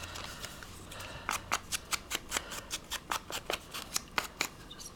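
Scissors snip paper for a collage journal card, a quick run of crisp, close cuts in an uneven rhythm, alone in a quiet room.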